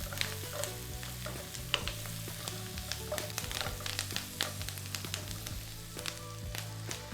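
Veal and spices, with sweet red paprika, sizzle steadily in a hot pan as veal goulash begins, with a constant close-up frying hiss broken by frequent stirring clicks and scrapes.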